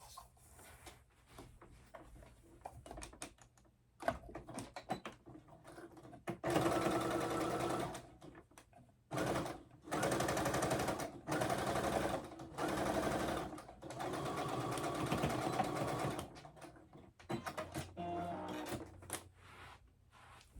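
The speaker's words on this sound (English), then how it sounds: "let's go ahead and stitch these down" A sewing machine stitches fabric in several runs of fast, even whirring, separated by pauses with small clicks and handling noises, close and clear.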